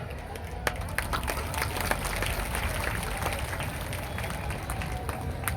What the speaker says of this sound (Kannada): ಎಷ್ಟು ಚಪ್ಪಾಳೆ ಹೊಡೆದ್ರಿ ನೋಡು